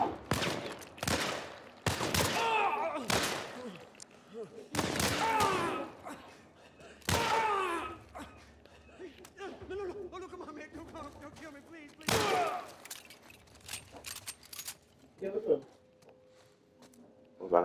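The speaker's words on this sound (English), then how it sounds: "You're shooting at me." Gunshots in The Last of Us Part 1, loud sharp blasts scattered irregularly among thuds and game sounds, with a person talking and reacting in between.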